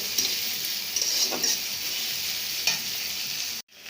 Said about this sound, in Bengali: পেঁয়াজ আর মরিচ আমি ভেজে নিতেছি তেলে